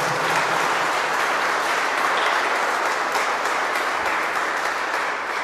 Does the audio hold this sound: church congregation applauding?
yes